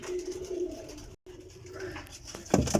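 A pigeon at a bird setup in Kotli, Azad Kashmir gives low, soft cooing in two near phrases broken by a brief gap, with a rustle at the end and no talk.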